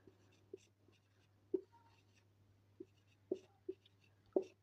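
A pen writes out a Class 9 maths solution with exponents on paper, giving soft, faint scratches and taps in an uneven rhythm against a steady low hum.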